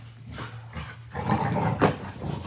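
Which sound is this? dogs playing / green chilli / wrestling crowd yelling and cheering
dogs playing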